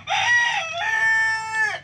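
Chickens call out at close range while being offered black soldier fly larvae, giving a couple of drawn-out, harmonic crowing and clucking cries that run nearly without pause and with no talk.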